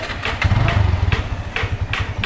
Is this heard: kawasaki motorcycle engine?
yes